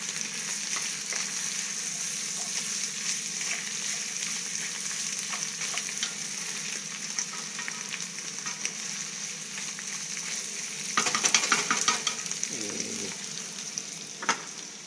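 Boeuf bourguignon in a pot giving off a steady low sizzle, with a burst of stirring scrapes near the end; no voices.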